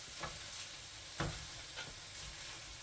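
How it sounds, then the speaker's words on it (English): Ground turkey sizzles in olive oil in a pan, a soft, steady frying hiss broken by a few scraping stirs, with no talk. "the meat is starting to brown nicely because we used our olive oil"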